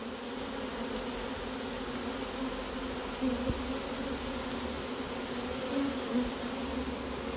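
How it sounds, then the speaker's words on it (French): A swarm of honeybees being gathered up, filling the air with a dense, steady, close buzzing hum throughout, with a couple of faint knocks beneath it. "Ah, il y a du monde. Ah ouais, c'est un bel essaim, j'étais content de récupérer."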